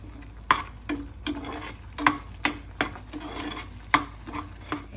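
Ground cumin, coriander and red chili powder fry in a pan over a medium gas flame, with a low sizzle broken by sharp scraping strokes of a spatula stirring at an uneven pace.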